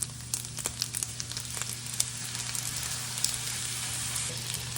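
Day-old leftover fried rice crisps in a hot pan with a steady, close sizzle and frying crackle, scattered small pops over a constant low hum.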